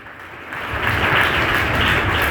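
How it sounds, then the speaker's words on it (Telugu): Clapping from a congregation at a special prayer meeting, rising quickly from quiet into a broad, sustained wash of applause that carries on to the end. "చప్పట్లు కొట్టండి గట్టిగా"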